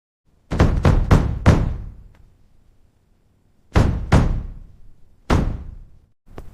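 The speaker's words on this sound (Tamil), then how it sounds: "அப்போது கதவு பலமாகத் தட்டப்பட்டது." Loud, close knocking on a door as a drama sound effect: a burst of four heavy raps, a pause, then two more raps and a final single knock, with silence between the groups and no voices.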